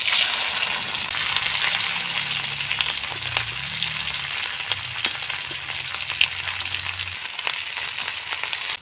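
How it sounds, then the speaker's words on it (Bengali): Sidol, a dried fermented fish, frying in hot oil in a wok, a steady dense sizzle with crackling pops that runs close and loud throughout, with no talk over it. "তেলের মাঝে শীতল ভেজে নেব।"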